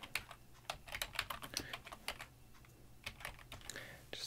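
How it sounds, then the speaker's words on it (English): Quiet computer keyboard typing: irregular bursts of light key clicks in short runs, close by, with brief pauses and no talking. "Just type that in."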